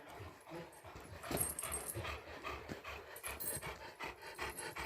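A Kangal dog pants and whimpers close by, with soft yips and low growls in an uneven rhythm and no talking.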